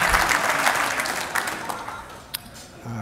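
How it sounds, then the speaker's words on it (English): Audience applause at an anniversary gala, a dense burst of clapping from the crowd that fades quickly over a few seconds, with a voice starting to speak at the very end. "So you should give yourselves a round of applause."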